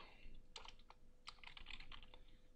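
Typing on a computer keyboard: quiet, close clusters of quick key clicks in irregular bursts with short pauses between, heard alone without talk.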